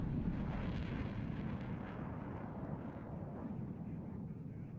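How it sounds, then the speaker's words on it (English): A bomber aircraft carrying high-explosive ordnance makes a steady, faint roar as it comes in on an attack run in the WARNO real-time strategy game, with a low rumble that holds and eases slightly over several seconds. "HE bomber coming in there, I assume to try and dislodge these units here."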